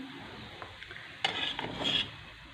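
Cooked cumin rice being served out of a cooking pot, with a scraping, stirring scrape of the spoon against metal and a short rustle of grains, moderate and close, strongest near the end, no talking.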